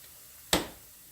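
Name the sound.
shaking red pepper flakes from a container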